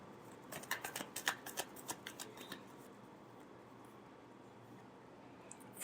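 Tarot cards being shuffled in a quiet room: a close burst of quick papery riffles and flutters over about two seconds, then near silence.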